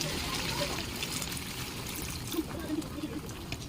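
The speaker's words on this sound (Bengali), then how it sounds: "পরিমাণ মতন জল দিয়ে দিলাম" Water pours into a pan of chicken curry, a steady close splashing trickle lasting a few seconds over faint kitchen background.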